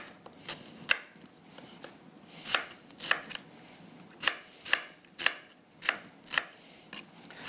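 Onions cut with a knife on a board: about a dozen sharp, close chops in an uneven rhythm, separated by short pauses, with no talking.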